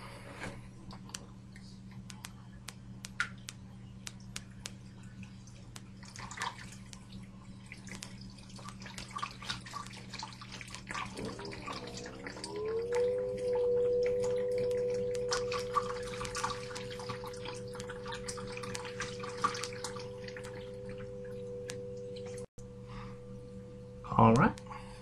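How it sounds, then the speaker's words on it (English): Mineral oil poured into a running computer gives a soft liquid trickle and drip over a steady electrical fan hum, with a rising whine partway through and a brief louder splash near the end. "We're going to fire up the computer and start pouring in the oil."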